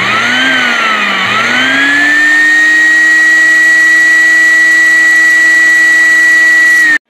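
A homemade brush attachment on a Hoover wet floor scrubber runs loud and close with a steady motor whine that dips briefly at the start, then rises and holds an even pitch before cutting off.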